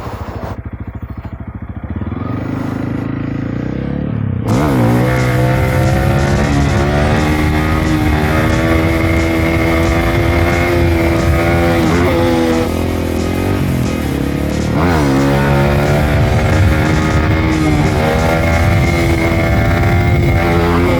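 A Honda CRF300L dirt bike fitted with an XR301 big bore kit revs up and down repeatedly during wheelies, its engine note climbing and falling in loud, close, continuous sweeps.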